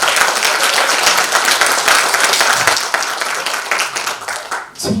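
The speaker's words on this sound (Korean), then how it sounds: "이분을 위해서 박수 한번 보내주시기 바라겠습니다" Audience applause fills a social workers' day ceremony in Hamyang, dense loud clapping sustained for several seconds and thinning out toward the end.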